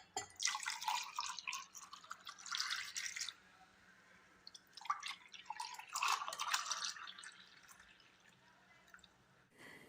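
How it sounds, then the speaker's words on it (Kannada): Fresh homemade sugarcane juice with ginger, strained and poured into a glass, giving soft close splashing and trickling in two bursts with quieter dripping in between. "ನೋಡಿ, ಈಗ ಇದು ಗ್ಲಾಸಿಗೆ ಹಾಕ್ತಾ ಇದ್ದೀನಿ"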